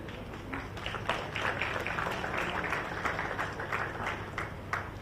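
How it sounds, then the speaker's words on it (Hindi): A modest crowd applauds at a ceremony where award names are read out, scattered claps sustained throughout at a steady level with no voice on top. "तालियां इतनी कम क्यों हो रही है?"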